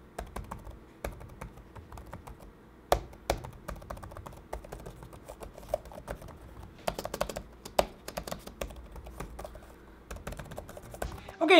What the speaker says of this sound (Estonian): kus kuulete neid klahvide klõbistamist